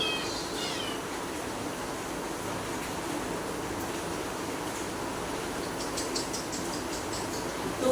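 Faint, high-pitched kitten mews come now and then over a steady hiss of background noise.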